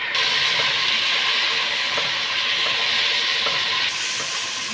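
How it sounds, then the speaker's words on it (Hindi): Garlic and ginger fry in hot oil for chicken pulao, a steady loud sizzling hiss with faint stirring clinks, close, no talk. "लहसुन अदरक को भून रही हूँ मैं अच्छी तरीके से इसमें।"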